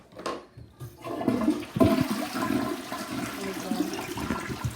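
A household toilet flushes loudly and nearby, starting with a sharp click and rushing water that swirls steadily until the clip ends.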